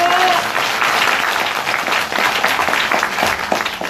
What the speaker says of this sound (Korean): 이때 박수 한번 세게 한번 쳐주세요